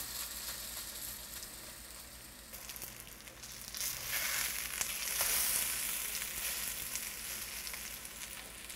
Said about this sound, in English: we have a little canola oil in the pan, and we have that hot already. And what we're going to do now is we're going to cook them up